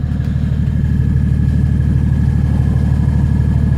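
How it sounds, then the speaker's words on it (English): BMW E39 530d diesel idling through its exhaust, a loud, close, steady low rumble with an even pulsing beat that holds unchanged, alone without speech. "Exhaust sounds great."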